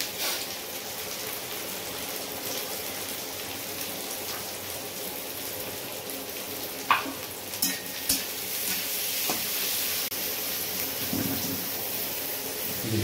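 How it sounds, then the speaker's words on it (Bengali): Onion fries with whole garam masala in a pan for Bengali fried rice, making a continuous rain-like crackling sizzle with a few sharp clinks and stirring knocks partway through. "তাতে এবার পেঁয়াজটা দেওয়া হচ্ছে।"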